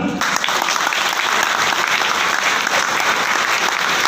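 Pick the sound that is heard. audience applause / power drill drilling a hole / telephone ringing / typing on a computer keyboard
audience applause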